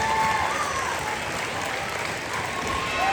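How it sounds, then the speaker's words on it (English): An audience at a school Christmas program claps for the 5th and 6th grade helpers, a steady wash of crowd applause with a faint tone lingering in the room. "Let's give a big applause to all of our helpers from the 5th and 6th grade"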